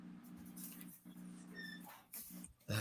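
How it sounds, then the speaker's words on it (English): A pet dog whimpers and yips softly in a room, short high whines coming and going over a low steady hum, close to the microphone. "I tried to keep my dog out for this. She insists."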